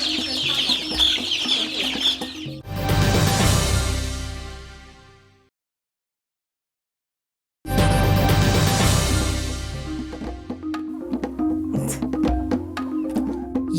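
Many chickens on a poultry farm cluck and chatter densely up close. The sound breaks off into a few seconds of silence, then the busy flock clucking returns.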